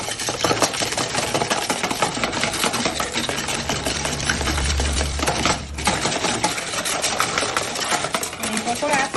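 Dough mixture with yeast and a little flour being beaten, a fast steady rhythmic whirring and slapping that runs continuously and close up for the whole stretch, with a brief dip near the middle.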